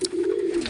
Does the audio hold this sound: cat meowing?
no